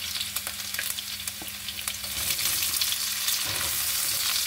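Garlic sautéing in a hot pan for kare kare, a steady close sizzle with crackling pops that thickens and grows louder partway through, no talk over it.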